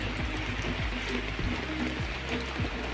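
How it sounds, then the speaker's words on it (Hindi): Heavy rain drums steadily on a tarpaulin sheltering a wedding, a dense continuous patter with scattered sharper drops, loud and close, with no talk. "फुल बारिश हो रही है और हमें तिरपाल के नीचे ये डाल दिया"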